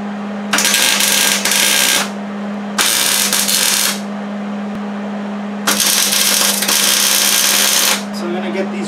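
Tack welding on a mount for a 1953-1955 Ford F-100 gas tank, with three loud bursts of harsh crackling welding arc lasting one to two seconds each, separated by pauses, over a steady low electrical hum.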